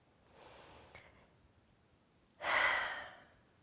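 Two audible breaths in quiet: a soft, airy inhale around the first second, then a louder, fuller deep exhale that swells and fades over about a second, close to the microphone.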